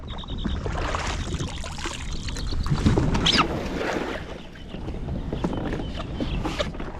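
Wilderness Systems iATAK 110 fishing kayak paddled on open water with the wind behind, soft paddle splashes and water lapping under steady wind rumble on the microphone, with a brighter splash near the middle.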